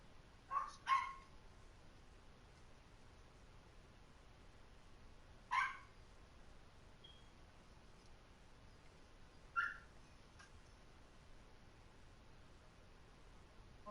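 A puppy barking in three short bursts spaced several seconds apart, the first a quick double yip, each fairly faint over a steady background hiss.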